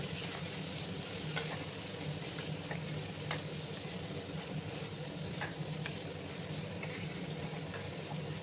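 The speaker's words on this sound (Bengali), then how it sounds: "প্রথমে আমি এই যে পেঁপে আর আলুটাকে ভালো করে ভাজবো।" Papaya and potato pieces frying in a pan with turmeric and salt, giving a steady close sizzle with light scraping stirs and occasional faint clicks throughout.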